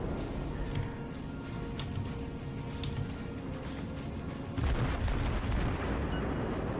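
Main guns of a warship in World of Warships plunge-firing armor-piercing shells: a steady low rumble with scattered faint ticks and distant booms, then a heavier broadband surge of gunfire partway through, no talk.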